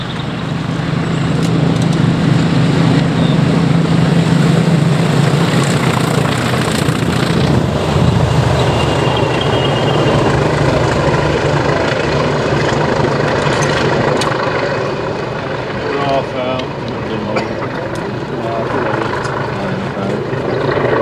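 Class 20 diesel locomotives 20311, 20314, 20189 and 20142 hauling the 6M03 accelerate through Cossington with a loud, sustained engine roar and throb that stays steady throughout. People talk nearby over the noise.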